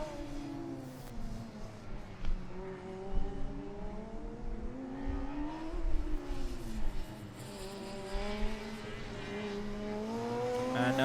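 A race car engine revs and whines on a track during an endurance run, its pitch rising and falling in repeated sweeps with a distant buzzing tone, continuous and moderately loud.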